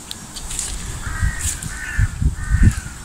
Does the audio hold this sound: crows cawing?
yes